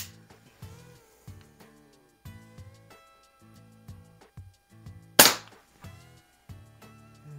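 A Ruger Mark 4 pellet air pistol by Umarex, a .177 break barrel, fires a single sharp crack outdoors on a snowy night, set among quieter clicks and handling knocks.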